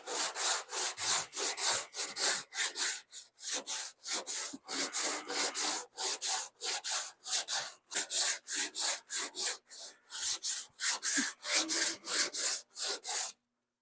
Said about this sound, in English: I'm rolling the round sanding block, and I'm always going in a crisscross